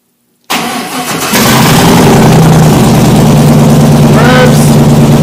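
A Holden HZ Tonner ute with a swapped-in 5.3 litre V8 cranks and fires up after a moment of silence, then settles into a loud, steady, close-up idle with a rising whine near the end.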